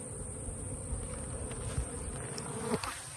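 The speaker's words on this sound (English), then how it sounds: "the bees that are going in and out are just robber bees from the other hive" Robber honey bees buzz steadily close by at a hive, a continuous droning hum with individual bees passing near now and then.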